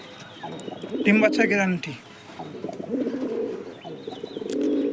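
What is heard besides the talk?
pigeons cooing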